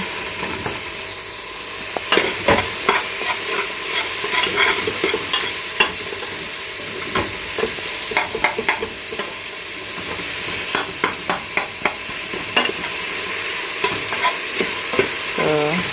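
Frozen minced meat stir-fried and stirred in a pan with a fork, giving a steady sizzle with scattered scraping and clinking strokes, busier bursts around the middle and end, no talking.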